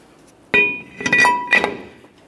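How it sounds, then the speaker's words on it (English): A brake rotor being fitted onto the wheel hub of a 2004-2008 Ford F-150 gives a sharp metallic clank followed by a few more close, ringing clinks and knocks over about a second, with no talking. "Now that I've got my rotor in place"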